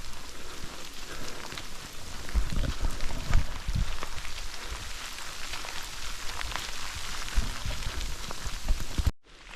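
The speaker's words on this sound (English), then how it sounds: "So, second time on the trail and getting hail right now." Hail falls on a hiking trail: a dense, close patter of small impacts with heavier bursts now and then. It runs steadily until it cuts off abruptly near the end.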